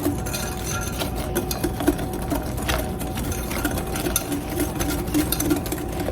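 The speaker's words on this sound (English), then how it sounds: "you're going to mix this together really well" An electric mixer beats egg custard pie batter in a high-sided batter bowl, a steady close motor whir with a rattly, busy texture that runs unbroken for the whole stretch.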